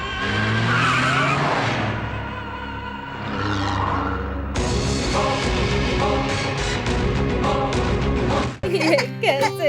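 A car pulls away with skidding, squealing tires during a dramatic Hindi-dubbed South Indian action film scene, loud and mixed under a heavy music score and voices.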